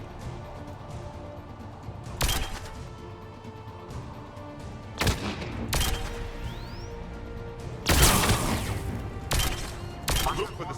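Sharp, scattered gunshots and impacts from Mass Effect 3 Legendary Edition crack out every few seconds over low game ambience and music, several loud bursts spaced irregularly.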